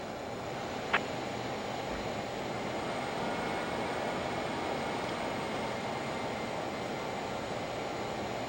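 A Learjet 35A taxis in a flight simulator with a steady low jet engine drone and a faint whine, holding constant over several seconds, with a single brief click near the start.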